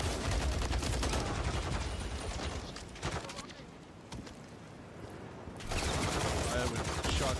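Dense automatic gunfire from the Call of Duty MW3 campaign at Gora Dam, rapid loud bursts that thin out to sparse single shots in the middle before heavy firing resumes; no talk.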